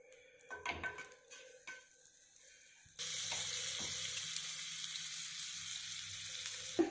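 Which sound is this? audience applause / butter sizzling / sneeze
butter sizzling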